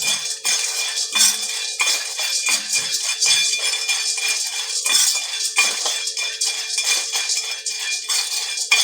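Roasted gram is dry-roasted with curry leaves in a pan and stirred constantly, giving a close, continuous rattling clatter of dry grains and scraping utensil strokes.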